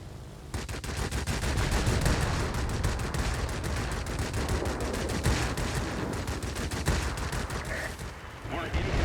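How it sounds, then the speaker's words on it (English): Guns on a Hornet twin-engine heavy fighter fire at ground targets in World of Warplanes, loud rapid bursts of gunfire rattling almost without pause throughout, with a voice faintly underneath. "it's not the coolest gameplay to see me shooting at ground targets"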